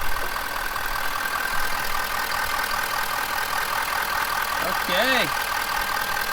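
A 2020 Ford Powerstroke diesel truck engine idles steadily and loudly nearby with a constant droning rumble, while someone speaks briefly over it.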